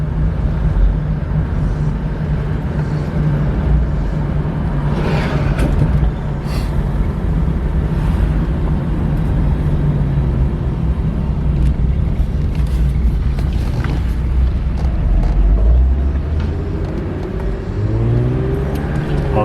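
A BMW E36 convertible with a slipping transmission drives along, its engine droning steadily and loudly with some revving swells and a whining tone near the end, heard close from inside the car.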